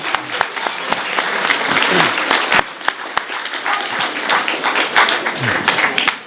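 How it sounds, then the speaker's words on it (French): Loud, close audience applause at a public gathering in Saint-Brieuc, many hands clapping with crisp individual claps standing out, sustained for several seconds with a brief dip partway through and a voice surfacing faintly under it. "vous pouvez l'applaudir, ça me fera plaisir"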